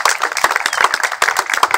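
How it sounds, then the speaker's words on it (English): Applause breaks out for a neighborhood security patrol at a community event, a steady patter of many hands clapping close by, dense and even throughout. "Everybody give our security patrol a round of applause"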